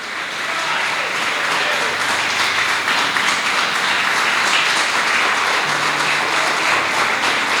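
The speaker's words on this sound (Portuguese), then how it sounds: "Quem está comigo aqui nessa noite pode aplaudir o nome do Senhor" A church congregation applauds during an evening service, with steady, loud, continuous clapping that holds for several seconds with no letup.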